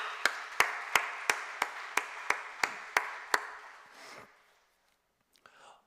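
About ten evenly spaced sharp claps from a church congregation, quiet and slightly distant, then fading into soft murmuring.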